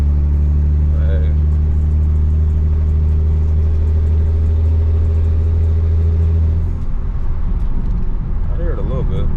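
An 800 hp turbocharged BMW 335i with an N54 engine drones with a deep, steady harmonic rumble while driving, then shifts and changes pitch toward the end, with someone talking over it.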